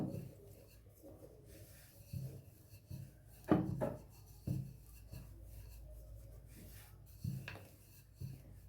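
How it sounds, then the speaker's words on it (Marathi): Potato and flour dough being rolled out into round puris with a rolling pin makes soft, close rubbing and thudding strokes on a board, coming in irregular passes with quiet gaps. "बघा असं गोल लाटून घ्यायची चपातीवाणी छान"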